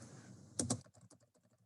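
Several quick computer-keyboard keystrokes, a pair of sharp clicks followed by a lighter, uneven run of taps, close and alone in a quiet room.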